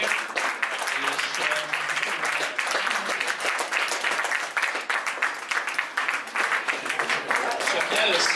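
Audience applause at an awards ceremony closing party, sustained crowd clapping at fairly high level with voices talking over it throughout.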